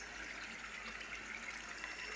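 Water rushes steadily through a fish tank filter at a fish-farming setup, a continuous close hiss and gurgle with no breaks and no talking.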